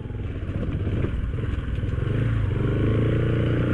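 A scooter riding past on a narrow street near a cave area, its engine a buzzing, rising drone that grows steadily louder and closer, with some rattling clatter underneath, no talking.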